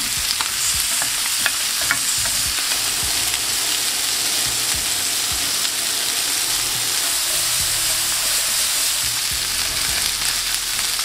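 Tandoori chicken wings sizzle loudly and continuously on a hot grill, a dense close hiss with scattered pops and crackles throughout.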